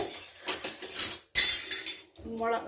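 A metal spoon clanks and scrapes against a pot of curry in several uneven strokes after salt is added, with brief clinks and a short pause midway.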